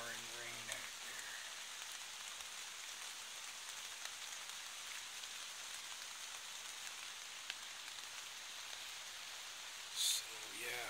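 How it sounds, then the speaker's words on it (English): Pouring rain outdoors on a rainy hunting day gives a faint, steady hiss of patter and drops that continues evenly throughout, with one brief louder tick near the end. "Pouring rain out there."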